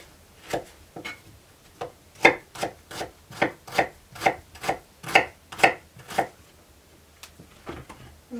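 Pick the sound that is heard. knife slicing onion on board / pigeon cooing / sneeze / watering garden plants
knife slicing onion on board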